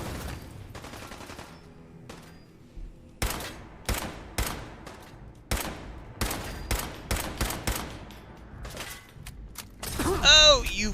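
Turrets firing in Fallout 4, irregular sharp gunshot bursts spaced through a tense ambient backdrop, ending in a brief mechanical whirring flourish.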